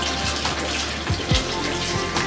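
Running water pours and splashes steadily into a restaurant dishwasher nearby, with a few gurgles and drips over the continuous flow.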